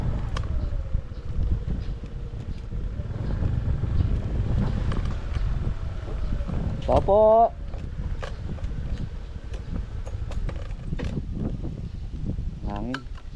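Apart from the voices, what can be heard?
wind blowing outdoors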